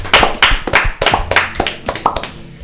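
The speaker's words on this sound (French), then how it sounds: "ça s'applaudit" Applause from a small group, a few bursts of clapping hands close by, fairly loud and uneven.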